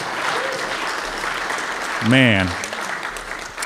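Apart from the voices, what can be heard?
audience applause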